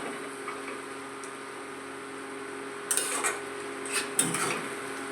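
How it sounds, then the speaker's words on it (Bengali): A spoon scrapes and clinks against a metal pan in a few short bursts near the end, stirring fried eggplant into chili pickle, over a steady low kitchen hum. "এই বেগুন ভাজাটা এই সময় মিশিয়ে দিচ্ছি, দিয়ে খুব ভালো করে নেড়ে নেব"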